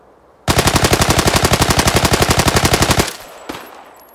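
Rapid automatic hipfire gunshots from a weapon in the video game Arena Breakout blast in one loud, evenly spaced burst of about two and a half seconds, then stop, followed by a single fainter click.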